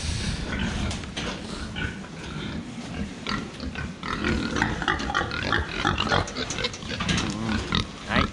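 Pigs at feeding time on a farm grunt and oink continuously, close and fairly loud, with overlapping snorts and squeals throughout and no clear talk.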